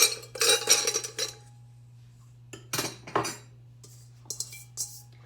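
Bowls being handled in a home kitchen, with a few bright clinks and clatters of dishware in short bursts separated by quiet gaps, close and moderately loud over a steady low hum.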